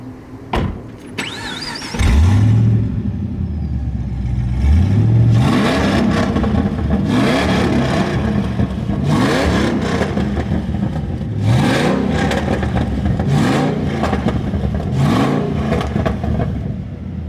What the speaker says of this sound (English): Can we start the car up and see how it sounds?